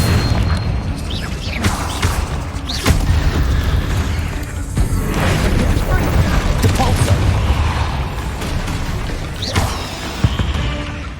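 Repeated Confringo fire-spell blasts from Hogwarts Legacy go off against spiders in a stretch of continuous combat, with booming impacts, sharp cracks and a rumbling bed of effects.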